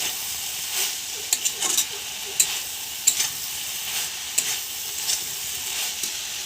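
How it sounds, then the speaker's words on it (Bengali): Chopped tomatoes hiss and sizzle as they fry for banana flower ghonto, a steady frying hiss broken by sharp utensil scrapes and clicks against the pan at irregular intervals. "এবার আমি এখানে টমেটো কুচি দিয়ে দেবো"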